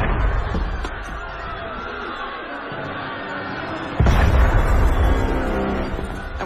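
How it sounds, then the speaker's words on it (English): Cannon fire in the game Assassin's Creed Unity: a sudden loud boom hits partway through over an already busy, crowded game soundscape, leaving a sustained heavy rumble and din afterward. "That was cannon fire."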